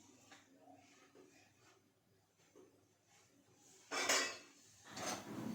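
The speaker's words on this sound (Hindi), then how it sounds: "इधर लगाने लगी हूँ बर्तन स्टैंड में" Washed dishes are set one by one into a kitchen dish rack in the early morning, with soft clinks and scrapes of utensils building to two louder metallic clatters near the end; faint, close, no talk.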